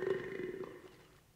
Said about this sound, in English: Not the burp.